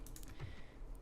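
A computer keyboard and mouse click during play of Medieval II: Total War, a few quick soft taps clustered close to the microphone in a short burst, no speech.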